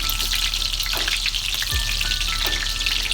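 Steady, close crackling sizzle of breaded pork schnitzel frying in hot oil, continuous and fairly loud, with a few soft clinks of a utensil.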